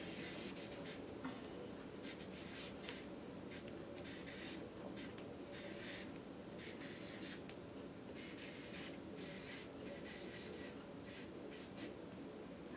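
Pen or marker writing a phrase on white paper in a quiet classroom, faint scratchy strokes coming in irregular bursts against a steady low room hum, with no talking.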